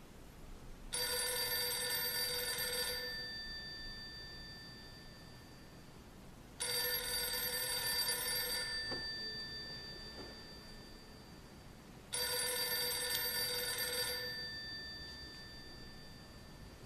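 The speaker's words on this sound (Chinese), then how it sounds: "有电话。" A telephone rings three times in a Chinese period TV drama, each ring a long electronic trill lasting about two seconds, evenly spaced and fairly faint, with quiet room tone between rings.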